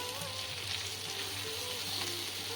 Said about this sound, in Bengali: কুমড়োগুলো হালকা ভাজা হবে